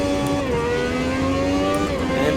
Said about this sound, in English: So we are driving out of the pit lane.